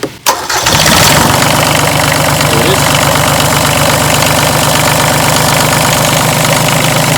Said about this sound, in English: all we do is we just start the engine up